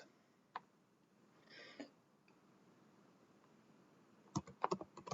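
A few soft, isolated key taps are followed by a quick close burst of typing on a computer keyboard in a quiet room, faint overall.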